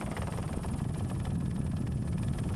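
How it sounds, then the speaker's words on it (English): A Eurocopter rescue helicopter flies over steep Himalayan terrain in Nepal, its rotor and engine a steady, dense droning wash that stays loud and close throughout without letting up. "But he can't land the Eurocopter here."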